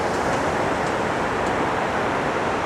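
A river roars through the narrow rock gorge of the Grindelwald glacier gorge, a dense, continuous rushing wash heard close and loud without a break.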